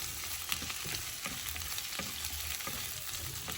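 Chopped onion and carrot saute in butter for a vegetable stew, giving a steady, fairly quiet sizzle with soft rhythmic stirring scrapes from a spoon and no speech.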